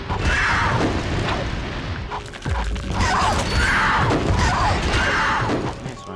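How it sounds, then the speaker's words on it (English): Repeated bomb glove blasts in Ratchet and Clank, several loud booming bursts at roughly regular intervals over a busy layer of game noise. "I guess I'll just go bomb glove here too."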